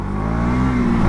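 A KTM Duke 200 motorcycle pulls away in first gear, its engine note close and loud, rising steadily in pitch with a buzzing, throaty drone and no voices over it.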